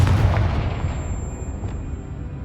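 A fiery Confringo blast spell in Hogwarts Legacy bursts with a heavy, booming explosion up front, then rumbles and fades away over the next two seconds.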